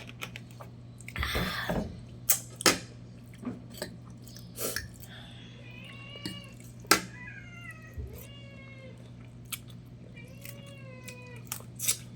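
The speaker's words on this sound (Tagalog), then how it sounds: "Nakaabang na naman yung aking mga pusa. 10 na pusa." Pet cats, about ten of them, meow repeatedly while waiting for food, several rising and falling calls spread across the clip at moderate distance, with sharp clicks and brief rustling in between.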